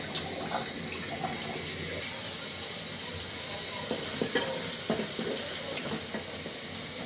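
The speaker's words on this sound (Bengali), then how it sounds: "সবজির সঙ্গে মশলাটা খুব ভালোভাবে আমি কষিয়ে নিব।" Spiced eggplant sautéing in a pan for a Bengali hilsa curry, with a steady sizzle and scraping stir, some watery bubbling and scattered clinks of a utensil, moderately loud and without talk.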